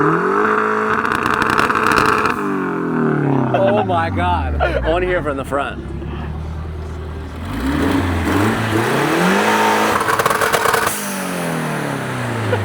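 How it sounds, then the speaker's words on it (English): Car engine revved several times at the Auto Concept car show in São Paulo: loud rising and falling revs and throttle blips over a low idle rumble, close by, while excited voices talk over it. "It's gonna rev it a couple times."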